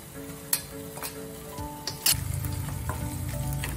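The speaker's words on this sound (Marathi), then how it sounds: "आपल्याला आता कढीपत्ता टाकायचा।" Curry leaves drop into hot oil with ginger-garlic paste, setting off a steady, close sizzle and crackle that swells louder partway through, with a few light clinks of a utensil against the pan.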